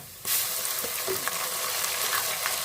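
Onions frying in a pan for red chilli chicken biryani, a steady close sizzle with light stirring scrapes, starting abruptly and holding even throughout.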